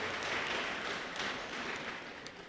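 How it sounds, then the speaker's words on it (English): A crowd at a public hearing in a sports centre gives a short round of applause, a dense hiss of many hands clapping that fades slightly over a few seconds. "Before we pray, let's give them a round of applause."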